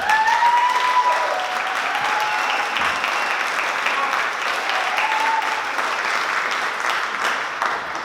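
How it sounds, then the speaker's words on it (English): Sustained applause from a panel-talk audience, many hands clapping in a dense, even wash for about eight seconds, with faint whistles or voices briefly rising above it. "A round of applause"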